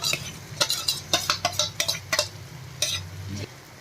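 A utensil stirs a pan of eggplant mash cooked with spices, Gujarati style, making a quick run of distinct scraping strokes against the pan, close and clear.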